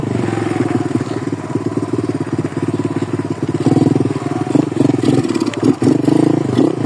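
A pit bike engine runs loud and close during a winter ride, its rapid mid-pitched putter climbing and pulsing as the rider shifts into second gear, with no voices over it.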